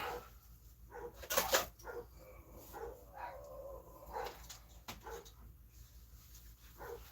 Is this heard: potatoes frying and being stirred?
no